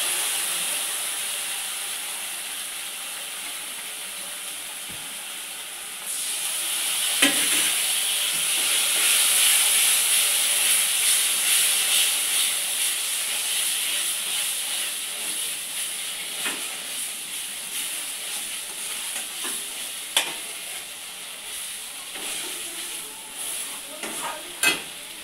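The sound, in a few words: masala with radhuni paste being sautéed in a pan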